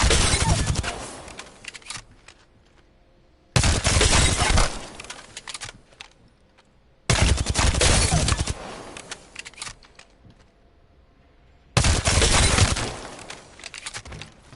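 Automatic gunfire in Apex Legends comes in four loud, sustained bursts with a recoil-controlled weapon, each lasting about a second or two and separated by short quiet gaps.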